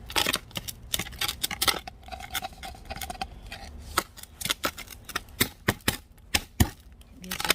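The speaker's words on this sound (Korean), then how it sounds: "이런 아이들 정말 보기 싫으면 가위로 그 부분을 잘라내 주시고요" Scissors snip away a plant's leaves in a string of sharp, close clicks and crisp cuts at an uneven pace, with rustling foliage and faint handling noise between them, and no talking.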